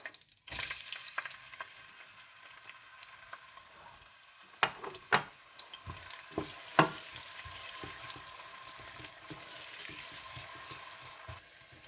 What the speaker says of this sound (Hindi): इसमें सारे साबुत खड़े मसाले और कलवंजी और मेथी दाना और प्याज डालकर हल्के गोल्डन ब्राउन कर लीजिएगा।